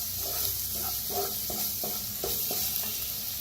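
A pan of ingredients roasting with half a spoon of turmeric gives a steady sizzle, while a spoon scrapes and stirs in a regular rhythm of about six strokes, close and alone.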